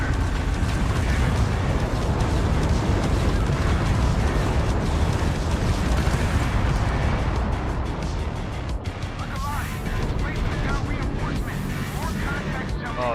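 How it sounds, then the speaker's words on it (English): Continuous heavy explosions and bombardment in a modded Star Wars version of the video game Starfield, dense rumbling blasts and bursts layered on each other, loud and sustained with a brief dip near the end. "I'm getting bombarded."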